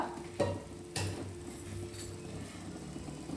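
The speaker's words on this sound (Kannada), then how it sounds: "ಕಡಲೆ ಬೀಜ ಚೆನ್ನಾಗಿ ಫ್ರೈ ಆಗಬೇಕು" Peanuts fry in a pan for lemon rice. A soft continuous sizzle is interrupted by a couple of sharp stirring scrapes and clinks near the start.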